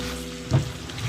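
Potatoes O'Brien (home fries) sizzle in a frying pan as they are stirred once, giving a short scrape and clatter over a steady frying hiss, close and moderately loud.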